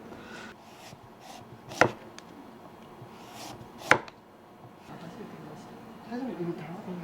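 A Japanese kitchen knife slices food on a board, giving two sharp, crisp chops a couple of seconds apart amid quiet room noise, with soft talking in the background.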